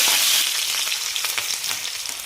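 Chopped garlic and ginger hit hot oil with a loud burst of hissing sizzle that settles into a crackling fry with light stirring taps, close and alone.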